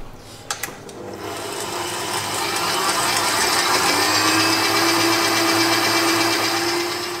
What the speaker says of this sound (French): il suffit de prendre votre robot et de fouetter tout ça jusqu'à obtenir une belle meringue bien lisse et bien ferme